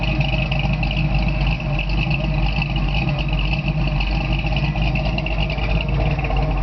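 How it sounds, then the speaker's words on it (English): A 1970 Camaro SS V8 with a lopey cam idles steadily and close by, a loud continuous rumbling drone with a slightly uneven, loping throb and no talking. "I want you to hear the lope in this cam"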